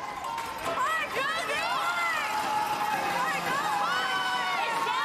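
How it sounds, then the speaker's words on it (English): Spectators at a women's curling game at the 2019 Canada Winter Games yell and cheer from the sides of the sheet, a continuous loud wash of crowd noise with shouted calls rising over it. "And the crowd is yelling like crazy from the sides."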